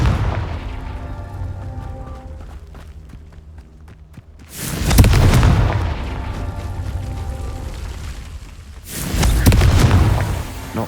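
Two deep booming explosions from the Confringo blasting spell in Hogwarts Legacy burst out loud and alone, each with a long rumbling tail, following a quieter stretch of low game ambience.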